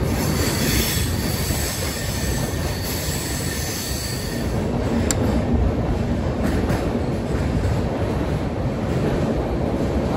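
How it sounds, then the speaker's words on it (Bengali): A train on the Kolkata to Bikaner route runs through a tunnel before dawn, giving a loud, continuous rumbling roar with high metallic wheel squeal and clatter, steady from start to finish. "দেখুন এই টানেলটা দিয়ে যাচ্ছি আমরা এখন।"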